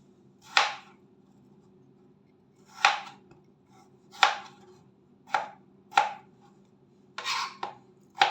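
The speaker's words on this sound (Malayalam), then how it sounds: "ഇനി നമുക്ക് പൊട്ടറ്റോ അരിഞ്ഞെടുക്കാം" A knife chops potato into small pieces on a cutting board, about eight separate crisp cuts spaced irregularly over quiet, close and alone.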